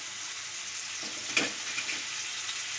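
Garlic, curry leaves and salt sizzle with browning onions in a pan, a steady soft frying hiss with a brief stir around the middle.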